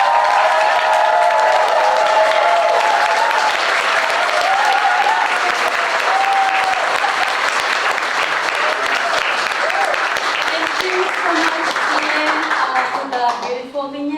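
Loud, sustained applause from a crowd at a summer youth showcase after a reading, with scattered cheers mixed into the dense clapping, running steadily for many seconds before fading at the end.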